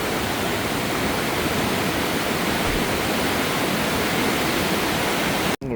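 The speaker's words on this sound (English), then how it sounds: "we are above the creek now" A creek rushes beneath a bridge in a rainy Alaskan town, a loud, continuous broadband roar of flowing water that holds steady before cutting off abruptly.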